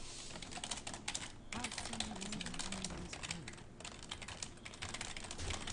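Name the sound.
typing on a computer keyboard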